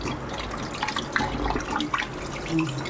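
Tap water runs and splashes over sardines in a sink as the scaled fish are rinsed, a steady close stream with small clinks and drips and no talking.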